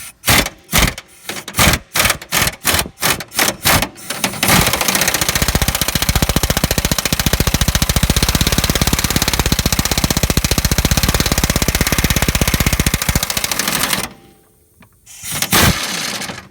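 A pneumatic impact wrench loosening a bolt on the upper control arm of a 2002–2006 Jeep Liberty, first a series of short sharp bursts, then a long loud continuous hammering rattle that stops abruptly, with one more brief burst.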